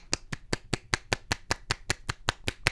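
Steady hands clapping, about a dozen sharp claps at an even rhythm, close and alone with no talk.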